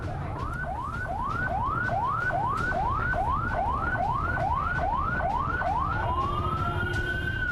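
Fire engine sirens at a kiosk fire, a loud, fast wailing yelp repeating about twelve times in quick rhythm before shifting into a long rising wail, over a low rumble of traffic and crowd noise.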